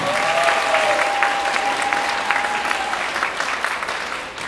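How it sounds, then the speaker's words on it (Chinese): Audience applauding after a glow-stick dance performance at an otaku arts contest, a dense, steady wash of many hands clapping throughout, slowly tapering toward the end, with a faint tone sustained over it. "来再次给我们刚刚所表演的医师一点掌声好吗"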